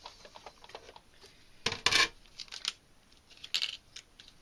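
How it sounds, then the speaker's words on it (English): A die cutting machine pressing paper through die blades, giving a few sharp cracking snaps in short bursts against a faint background, close by and with no voices. "Hear it cutting. That cracking sound is cutting."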